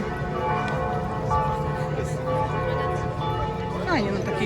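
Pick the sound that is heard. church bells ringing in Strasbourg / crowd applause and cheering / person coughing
church bells ringing in Strasbourg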